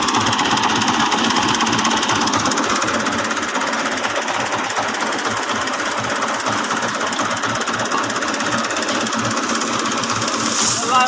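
A diesel tractor engine running nearby, loud steady knocking chug that continues without pause throughout.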